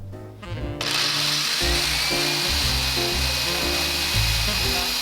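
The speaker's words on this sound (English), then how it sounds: "I'm going to take my drill and I'm going to drill down about 1 inch." A handheld power drill bores a hole about an inch deep into the wood of a homemade tiered tray. The motor whines steadily and its pitch shifts as the bit bites, close and loud.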